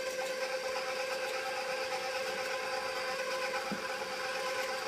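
Stand mixer whirring steadily at its lowest speed while eggs are dropped in for banana nut bread batter, a constant close mechanical hum with a brief soft knock near the end.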